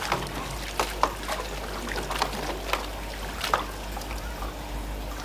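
Water pours and trickles steadily while plastic toy animals, including a toy crocodile, are rinsed, with faint clinks and splashes from the toys against a low background hum, and no voices.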